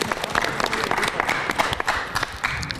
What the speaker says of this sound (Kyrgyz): Кол чаап коелучу